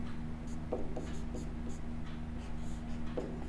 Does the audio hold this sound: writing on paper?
yes